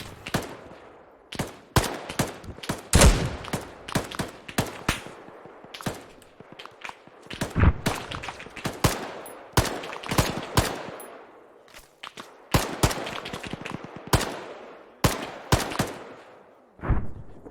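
Arma 3 gunfire: many sharp individual shots and short bursts ring out at an irregular pace, some close and loud, others softer, each followed by a short decaying echo, with no voices.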